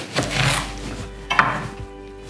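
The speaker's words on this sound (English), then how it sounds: "So chopping in the machine." Onion pieces are chopped in a food processor in a home kitchen, with two short bursts of whirring, clattering blade noise separated by a brief pause.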